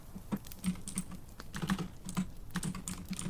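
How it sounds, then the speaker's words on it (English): Typing on a computer keyboard, a quick uneven patter of light key clicks heard up close and alone, with no talking over it. "I really can type faster than this."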